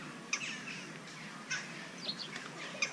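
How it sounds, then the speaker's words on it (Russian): Sparrows at a zoo give short sharp chirps, scattered a few times over quiet outdoor ambience, faint and somewhat distant. "Воробушки! Папа, воробушки!"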